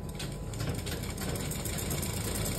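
A sewing machine stitches a samosa-style salwar, running in one steady, close mechanical whir with a fast regular rattle throughout.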